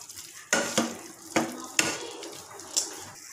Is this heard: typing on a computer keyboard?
no